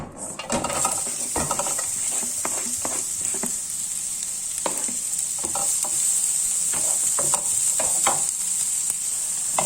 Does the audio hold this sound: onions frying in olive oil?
yes